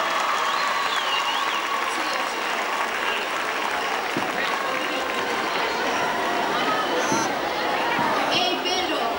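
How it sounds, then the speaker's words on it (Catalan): Applause from an audience at a children's song showcase in the Poble Espanyol, loud sustained clapping mixed with crowd chatter and some cheering, with voices heard throughout. "Fort aplaudiment"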